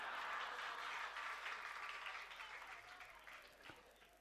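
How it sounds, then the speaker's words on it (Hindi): A crowd of small children claps steadily in sustained applause. It is fairly distant and fades slightly toward the end. "बहुत सारे छोटे छोटे बच्चे होंगे, उस समय नहीं थे जो आज ताली बजा रहे हैं"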